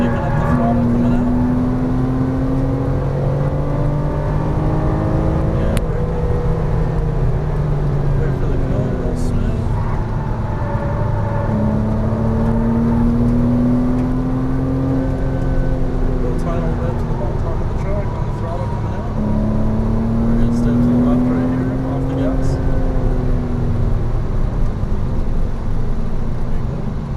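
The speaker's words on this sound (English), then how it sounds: "So we're kicking up the throttle coming out." A Porsche Cayman R engine drones and rises in pitch as it accelerates out of a turn on a cone course, in steady repeated revving sweeps heard from inside the car, with a voice talking over it.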